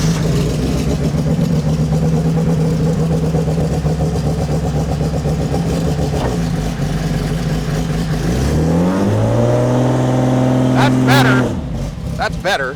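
A 2700+ horsepower Holden VL race car engine revs hard against the trans brake with the dump valves open, a loud sustained roar that climbs in pitch toward the end before cutting off, with people talking over it.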